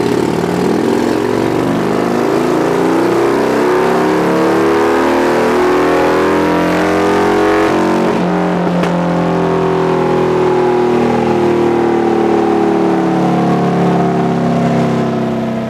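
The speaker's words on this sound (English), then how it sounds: "let's put it on the dyno and prove it." 2014 Harley-Davidson Fat Bob FXDF fitted with S&S mufflers and air cleaner, revving hard on a dyno: a loud, continuous engine roar that climbs in pitch, drops briefly, then builds again, with no voices.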